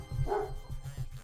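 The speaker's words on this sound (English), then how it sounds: "Why you barking?" A short dog bark, a single mid-pitched boof close by, with low rumbling room noise around it.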